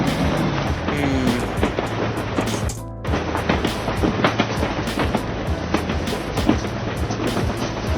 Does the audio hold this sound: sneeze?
no